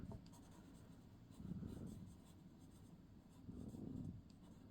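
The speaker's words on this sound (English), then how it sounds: "So we're drawing that same shape." A pencil draws a shape on paper, a close, soft scratching that swells in two longer strokes with lighter marks between.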